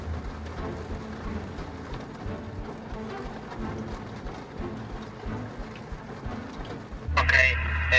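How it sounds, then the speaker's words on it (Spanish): Steady rain falls during a storm by the sea, a continuous hiss with a low rumble beneath, and a louder burst near the end. "Pues básicamente se nos va a ir la tarde así con esta lluvia"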